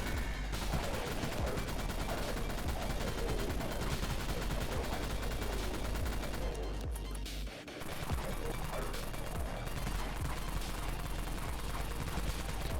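A Kraken minigun in the zombie game Dead Frontier fires continuously in a dense, roaring barrage, briefly cutting out for a moment near the middle before resuming at full loudness.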